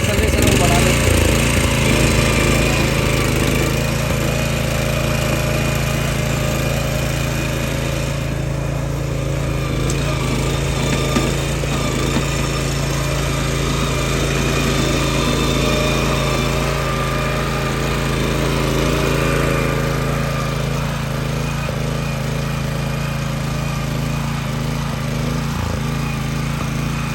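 A Honda power tiller engine revs steadily while tilling tall weeds in a field, a loud, continuous high-pitched buzzing drone that holds for the whole stretch with someone speaking Hindi over it.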